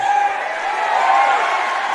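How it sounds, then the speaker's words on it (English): Crowd in a high school basketball gym, a steady broad roar of many voices with faint cheering, continuous and fairly loud. "As the crowd in the gym, the noise has lifted"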